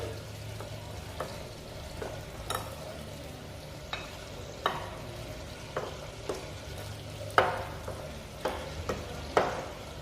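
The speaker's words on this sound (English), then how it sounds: "First, mix the sugar and glutinous rice flour in a bowl. Then mix it with a spoon." A spoon stirs sugar and glutinous rice flour in a bowl, making irregular scraping clicks and taps against the bowl over a low steady background hum, with no talking.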